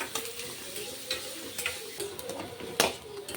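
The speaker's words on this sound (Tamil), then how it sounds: "இப்போ நான் ஆனியன் போட்டுக்கிறேன். இது லைட் பிங்க் கலரில் வர வரைக்கும் அப்படியே நல்லா வதக்கிக்கலாம்" Onions sautéing in a heated pan for an egg Maggi dish give a faint, steady sizzle broken by light scraping stirs and small clicks, with one sharper clack near the end.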